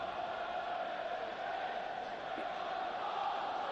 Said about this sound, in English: Listen to the crowd react to that.